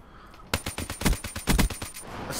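Rapid automatic gunfire in Black Ops 3, roughly a dozen sharp close shots in a steady burst after a brief quiet start, loud and dry with no talking over it.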